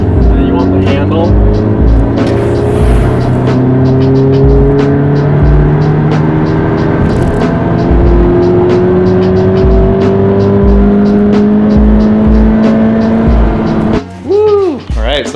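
A Toyota 86 on a test drive, its engine note rising and falling through gear changes as it accelerates from inside the cabin, with steady road rumble, until a driver's voice cuts in at the end.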